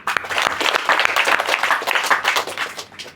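Steady audience clapping during a Tamil spiritual discourse by Swami Nityananda Saraswathy, dense and fairly loud, continuing evenly throughout with no speech over it.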